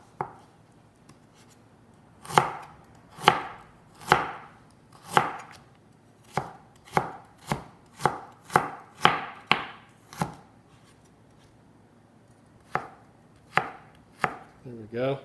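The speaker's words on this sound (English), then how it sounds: "I want to slice this really thin." A knife slicing Asian pears thinly on a cutting board: a close series of crisp, evenly spaced chops, about a dozen in a steady rhythm with a brief pause near the end, and no talking.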